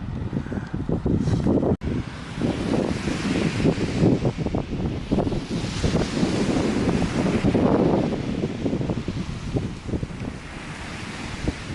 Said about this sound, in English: This ocean and breeze, you know.